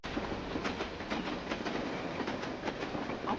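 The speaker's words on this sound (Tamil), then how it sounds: "அப்படின்னா ட்ரெயின் சவுண்ட் இங்கதான் கேக்குது" A train rumbles past at close range, with broad steady noise and faint rhythmic clatter from the wheels running through the whole stretch, and no voices over it.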